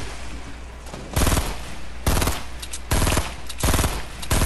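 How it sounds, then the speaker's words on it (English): Automatic weapon fire in a Fortnite Battle Royale match comes in four loud, closely spaced bursts of rapid shots, separated by brief gaps of background game ambience. "We're getting shot from behind."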